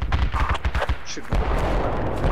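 Artillery area bombardment in the game Project Reality v1.3.9, in an urban siege of Beirut: loud, close, rapid bursts of heavy booms and gunfire crackling in quick succession, with faint voices mixed in.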